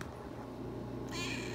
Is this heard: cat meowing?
yes